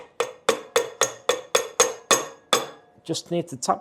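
Eight sharp metallic taps on a Lambretta Cyclone5 gearbox gear cluster, struck at an even quick pace with ringing decay, up close, followed by a short burst of someone talking.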